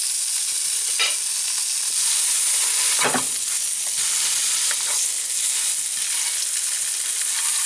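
Fatty pieces of corned beef sizzling and frying in a pan with no added oil, a dense continuous crackle broken by a few louder pops and scrapes of stirring.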